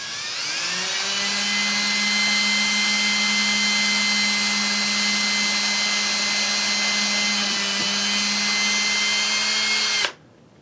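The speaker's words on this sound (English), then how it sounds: "Let's take a drill there." A power drill boring into a wooden marten box trap runs loud and steady for about ten seconds, its whine holding one pitch before it stops abruptly.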